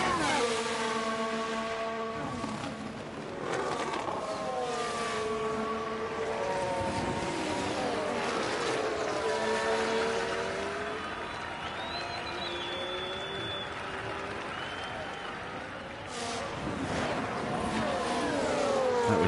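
F1 race cars at Monza in the F1 Manager 23 video game, engines whining and shifting through rising and falling pitch sweeps, several cars passing in a continuous loud stream with crowd-like wash underneath.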